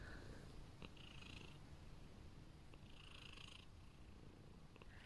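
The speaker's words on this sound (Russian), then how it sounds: "Она мурчит у нас очень громко." An 11-year-old cat purrs softly and steadily up close, the rumbling breaths cycling in a slow, even rhythm with faint hissy edges.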